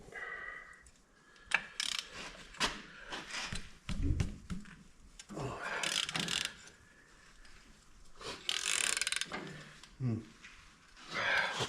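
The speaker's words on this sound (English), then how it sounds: "Time for the ratchet." Close clicking and ratcheting of a hand ratchet wrench working loose the exhaust bolts on a motorcycle, in irregular short bursts with pauses, some metallic knocks, and a voice heard speaking intermittently.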